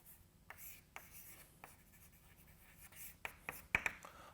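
Chalk writes a mathematical proof on a lecture-hall board in short scratchy strokes and taps, some faint and some sharper, with a few louder knocks near the end and no speech over it.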